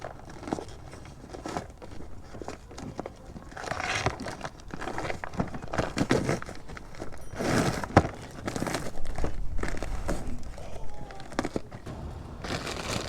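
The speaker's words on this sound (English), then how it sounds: "I need to get it out of the packaging first" A new car radiator is pulled from its packaging, with close bursts of crinkling plastic and rustling, tearing wrap coming in uneven waves over several seconds, no one speaking.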